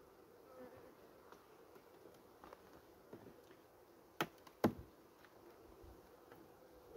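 Honey bees buzzing at an opened hive during a beekeeper's inspection, a faint steady hum with a couple of sharp clicks near the middle.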